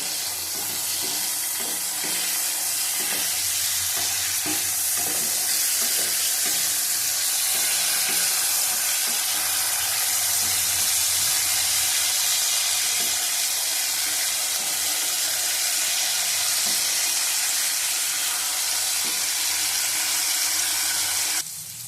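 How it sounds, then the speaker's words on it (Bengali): Flat beans (sheem) frying in a pan give a continuous, loud, close sizzle that runs steadily throughout with no talking. "ভালো করে ভেজে নেবো।"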